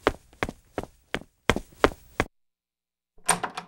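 Sharp knocks rap on a door, seven in an uneven rhythm, close and loud, then a pause and a brief burst of muffled shuffling and movement.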